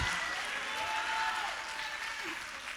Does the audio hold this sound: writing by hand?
no